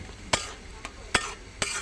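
Fish dropped into a frying pan of spices, with four sharp clacks of a spatula or utensil against the pan over a low sizzle.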